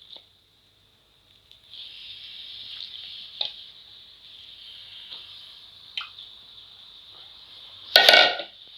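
Chicken pieces are stirred into masala in a pan for chicken kurma, with a soft wet sizzle, a few spoon scrapes and knocks, and a louder clatter near the end.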